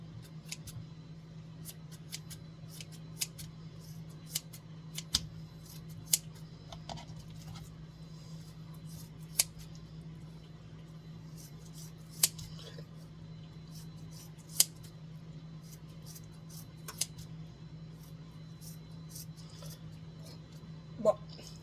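Scissors snipping through bacon in a home kitchen while preparing a big bacon poutine, giving a string of sharp, separate clicks and snips over a steady low hum, fairly quiet and close.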